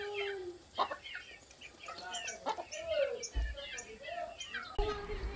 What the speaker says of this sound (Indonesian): Ini ayam di kampung. Ia ingin terbang,